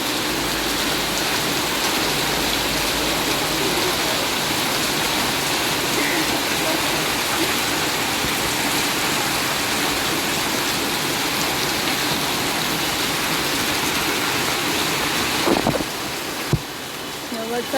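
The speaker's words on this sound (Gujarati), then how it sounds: "વરસાદ બંધ થવાનું નામ નથી લેતું" Heavy monsoon rain pours down in a dense, constant hiss and patter that stays loud and even, with a few brief clatters near the end.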